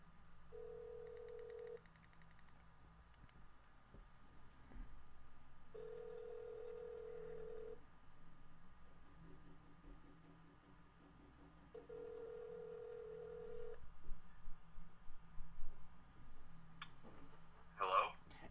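A phone call placed on speaker rings out with three evenly spaced ringback tones, each about a second long and separated by long quiet gaps, followed by faint clicks and rustling near the end.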